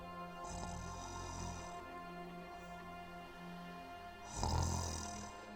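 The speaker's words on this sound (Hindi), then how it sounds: "सोते हुए योगी पुजारी की आवाज सुनाई देती है, जो खर्राटे ले रहा है।" A sleeping cartoon yogi priest snores in two long, deep rasping breaths, one early and a louder one near the end, set over a sustained musical background drone.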